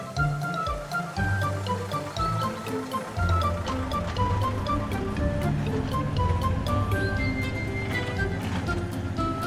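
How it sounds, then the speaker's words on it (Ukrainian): Water rushes and churns continuously as a canal fills beneath a bridge in a children's cartoon about helper cars, a steady watery wash over light background music. "Ох, канал під мостом наповнюється водою."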